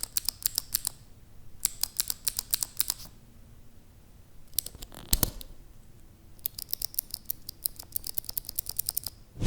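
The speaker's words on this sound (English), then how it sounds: "It's definitely clicky, so it's a blue switch variant of some kind, probably Gateron or Kale Blues if I had to guess." Clicky blue-type mechanical keyboard switches, likely Gateron or Kailh Blues, clatter in quick bursts of sharp clicks separated by short pauses, close and alone.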